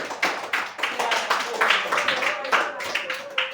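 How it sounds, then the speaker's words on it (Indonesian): Light clapping from a small group of students in an Indonesian classroom supervision session, a loose run of claps mixed with people talking over it. "tepuk tangan buat kalian"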